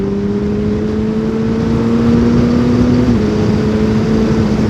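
Suzuki Bandit motorcycle engine restricted to 34 hp holding steady revs in second gear, a loud, smooth, continuous drone with a slight pitch rise and a brief dip near the end, no talking.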